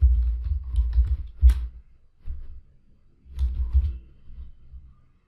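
A name being typed on a computer keyboard: two short bursts of soft, close keystrokes separated by a brief pause, with no voices.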